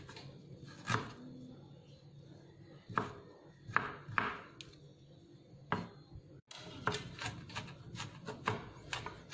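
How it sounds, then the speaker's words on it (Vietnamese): Garlic and chili minced together by hand with a knife on a board, making irregular sharp chops in short bursts that come faster toward the end, with faint talk in the background. "Mình băm cho thật nhuyễn"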